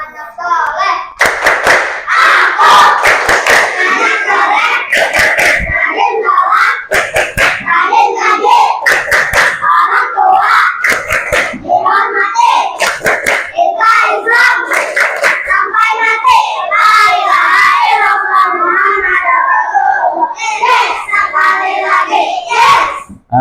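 Children in an Indonesian Islamic religious education class performing the tepuk anak soleh clapping chant, chanting loudly together in rhythm with bursts of sharp hand claps throughout.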